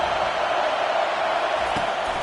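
Penn State football stadium crowd during an Indiana at Penn State college game, a steady, loud roar of many voices as a broad wash of noise, unbroken for the full couple of seconds.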